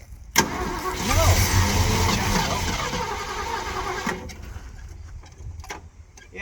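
A car engine with a single-circuit brake system cranks and roars into a loud sustained run for several seconds after an abrupt start, then cuts out, leaving quieter clicks and rattles; faint voices sound beneath it.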